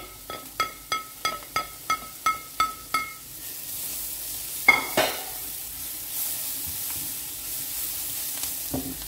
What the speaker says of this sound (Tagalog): After 5 minutes, ilagay na natin ang ating garlic.